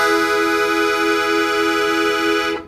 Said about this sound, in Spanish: su acordeón está en tono de mi.